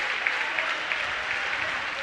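A crowd at a boys' high school basketball game between Morristown and Jefferson gives a sustained round of applause, a dense, even wash of clapping heard close throughout.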